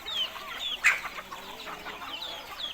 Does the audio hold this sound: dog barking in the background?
no